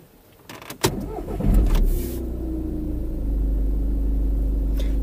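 A Volkswagen Passat B6 2.0 TDI diesel starts with a brief crank, then settles into a steady, low, smooth idle heard close by through lowered windows.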